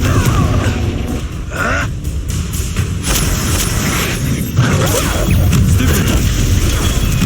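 A Confringo spell blast in Hogwarts Legacy, a loud booming burst with crackling impacts among ongoing combat noise, several sharp hits spread across the stretch and no talk.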